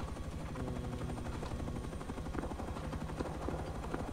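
Rapid automatic gunfire in a helicopter combat video game, bursts of shots chattering steadily over a continuous rotor-like drone, loud and close throughout with no talk.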